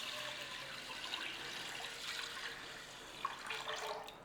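Water poured over moong dal and rice in a cooking pot, a steady faint splashing and trickling pour close by with no talk.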